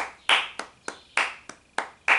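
Sharp, bright flamenco handclaps ring out close by, seven crisp claps in a steady rhythm, each with a brief ringing decay.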